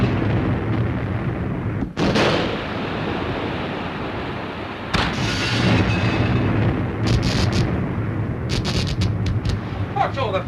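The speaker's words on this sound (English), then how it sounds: "It's hard to tell with these depth charges." Depth charges explode near a submarine in a 1943 wartime film, heavy booming blasts and rumbling surges recurring over several seconds, loud and close, with crackling bursts toward the end.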